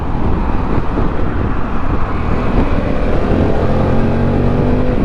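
A Harley-Davidson Pan America Special motorcycle accelerates hard on the motorway. Its engine drone is loud and steady, rising under heavy wind and road rush, with no talk.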